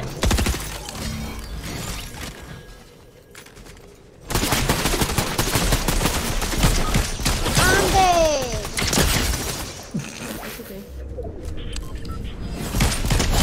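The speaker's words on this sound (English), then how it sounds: "Dragon's Breath Sniper, by the way." Gunfire in Fortnite with the Dragon's Breath Sniper, loud cracking shots and rapid bursts over a noisy battle, with short whistling sweeps in the middle; the field drops away briefly before a sharp return of sustained firing.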